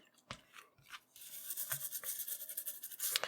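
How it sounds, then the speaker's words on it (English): Brushing and scrubbing on the back of a circuit board from an Applied Engineering Z-RAM Ultra 2 card for an Apple //c: quiet, close scratchy strokes in short bursts, alone. "I'm also going to flip it over and do a little cleaning on the backside"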